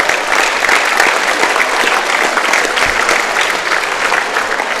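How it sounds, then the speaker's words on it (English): Basketball game crowd applauding the officials in a gym, a steady dense wash of clapping that holds at full strength for several seconds, with no voices rising above it. "Please give them another round of applause."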